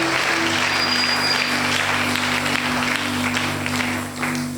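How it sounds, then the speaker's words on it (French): A church congregation claps steadily through a worship service, dense continuous applause filling the room at close range with no pause, a low hum running underneath. "Acclamons pour la parole de Dieu."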